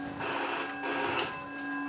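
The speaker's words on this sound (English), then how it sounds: "I'm going to call it with the other phone, that line." A telephone rings through a repaired UAX13 Strowger telephone exchange: a loud, close electronic-sounding ring with a steady hum underneath, lasting just under two seconds with no talking.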